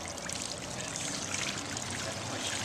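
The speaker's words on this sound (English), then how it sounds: "Sump pump is starting to pour water out of" Sump pump in a rain-flooded church discharging water, a constant faint rushing pour with a hissy, splashing texture and no pauses.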